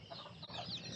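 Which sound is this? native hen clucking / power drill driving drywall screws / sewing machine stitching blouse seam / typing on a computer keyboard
native hen clucking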